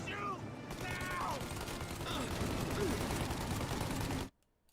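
Sustained gunfire from Mafia: Definitive Edition, a loud dense burst of shots running nearly four seconds with voices shouting over it, then cutting off abruptly into silence.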